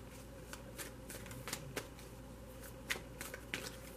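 A Crystal Visions tarot deck shuffled by hand, quiet riffling and soft card slaps recurring in irregular bursts over a faint steady room hum, with no talking.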